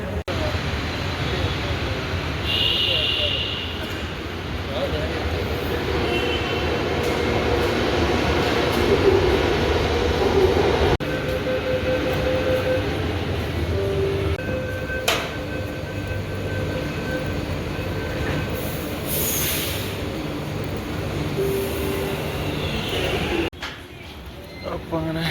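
Bengaluru metro train riding toward KR Market station, a continuous low rumble of the moving carriage with intermittent whines and tonal hums, people talking over it at times, ending with an abrupt drop in noise.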